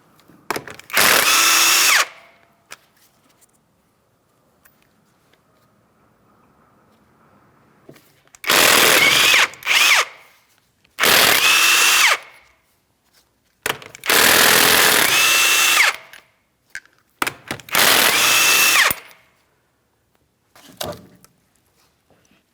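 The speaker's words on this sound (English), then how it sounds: "remove all 5 of your 19mm lug nuts and we can get the wheel off of here" A power tool, likely an impact wrench, removes the 19mm lug nuts from the wheel of a 2007-2014 Ford Edge in five loud bursts of about one to two seconds each, separated by quiet pauses with faint handling noises.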